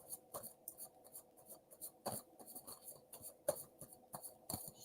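Alice in Wonderland tarot cards being shuffled by hand, soft quiet riffling and flicking bursts in an irregular rhythm, close up with no talking.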